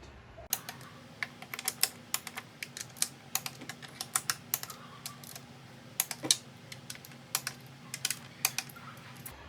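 Intake manifold plenum bolts on a 3.6L Pentastar V6 are run through with a wrench for torque, giving quiet, irregular, sharp clicks in quick clusters against a faint background hum.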